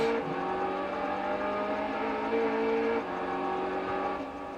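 A car engine in the PS2 game Action Man A.T.O.M., a steady buzzy synthetic drone with stacked harmonics holding pitch, dipping briefly around three seconds, no talk.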